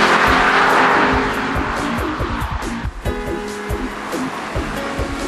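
A Porsche 997 GT3 RS engine revs hard, a loud mechanical roar that climbs and drops through repeated throttle blips with a rushing, wind-like wash behind it.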